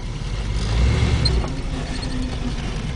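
An International Scout with a 3-speed automatic transmission drives along, its engine giving a steady low rumble that swells briefly as it pulls, heard from inside the cab with no talking.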